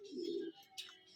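Stock pigeons in a fancier's loft give a short, soft, throaty coo, followed by a faint higher chirp, close by and otherwise quiet.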